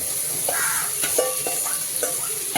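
Sabudana is stirred into potatoes frying in oil, with a steady soft sizzle under repeated scraping and stirring strokes of a spoon in the pan, close and fairly quiet.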